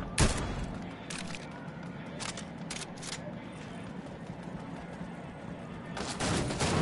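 Scattered shots ring out in a battle royale video game, with a sharp crack at the start, a few spaced reports in the middle and a louder cluster near the end, heard over steady game ambience as players talk.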